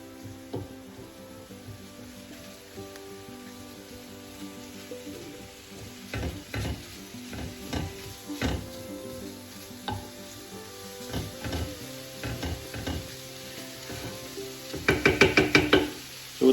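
Ground beef seasoned with salt and pepper browns in a pan, giving a steady close sizzle with scattered knocks and scrapes of a stirring utensil, and a quick flurry of clicks near the end; no talking.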